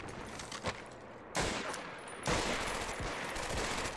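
Gunfire in the World War II shooter Medal of Honor: Vanguard, with scattered shots and two sudden loud bursts of sustained firing, dense and close, with no talking.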